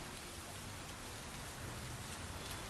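Heavy monsoon rain pours down in Pune, Maharashtra, a dense, steady, roaring hiss that stays loud and unbroken throughout, with no voices.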